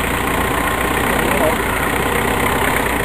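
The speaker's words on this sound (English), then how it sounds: "Is that your diesel, isn't it?" A diesel car engine idles nearby in a steady, loud, unbroken rumble with a constant low vibration for the whole short stretch.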